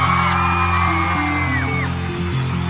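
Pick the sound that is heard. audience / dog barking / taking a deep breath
audience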